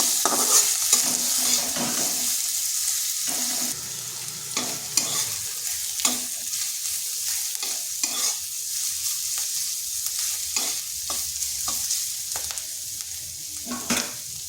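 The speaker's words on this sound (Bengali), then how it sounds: "এরপর আদাটাকে একটু ভেজে নিচ্ছি যাতে তার কাঁচা গন্ধটা চলে যায়।" Grated ginger and a green chili fry in a hot pan, giving a steady, close sizzle broken by repeated scraping stirs and occasional utensil knocks, with no voices.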